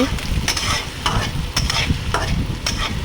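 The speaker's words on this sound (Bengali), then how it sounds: "পেঁয়াজ মরিচগুলো আমি ভেজে নিচ্ছি" Chopped onions and green chillies frying in leftover egg-frying oil, a steady close sizzle broken by regular scraping strokes of a spatula stirring the pan, with no talking.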